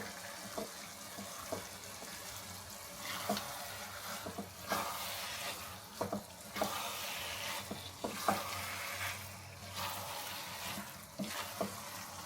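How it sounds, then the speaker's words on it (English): Carrot halwa frying in ghee sizzles softly and steadily in a pan while a utensil stirs it in irregular scrapes and knocks, faint and close. "Let me try mixing it with this hand."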